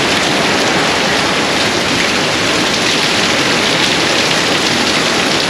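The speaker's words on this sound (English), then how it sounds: "We knew we would get a little bit of rain from it, but I think we're getting more than a little bit right now." Heavy rain from Hurricane Idalia pouring at a Georgia grist mill with a mill pond, a dense, loud, unbroken roar of rain on surfaces sustained throughout, no voices.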